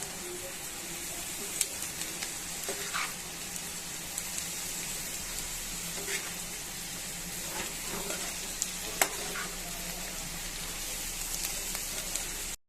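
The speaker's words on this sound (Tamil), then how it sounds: "நல்லா கிளறிக்கலாம்." Boiled tapioca (kappa) being stirred in a hot pan for a Kerala-style snack, a steady sizzling crackle with repeated scraping clicks of the spoon, close and continuous with no talking.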